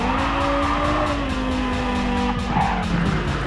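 A 2,600 hp, 700 kg race car in the Gran Turismo 7 video game screams along at high revs, its engine pitch sliding down through a shift while tires squeal, loud and continuous throughout.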